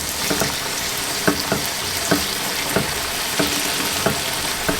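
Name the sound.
pork chops frying in a pan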